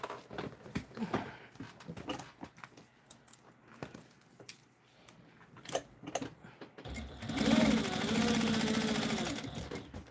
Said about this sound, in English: let me test sew this thing